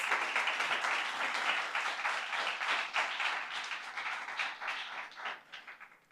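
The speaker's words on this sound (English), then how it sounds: "Give the Shades of Blue Foundation a big round of applause." A crowd at a scholarship award ceremony applauds warmly, dense steady clapping from many hands that holds strong and then gradually thins out toward the end.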